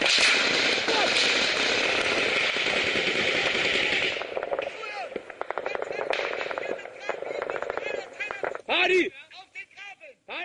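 Bursts of automatic gunfire and single shots crack through a firefight in Afghanistan involving German paratroopers, dense at first then thinning into scattered sharp reports with voices shouting in between.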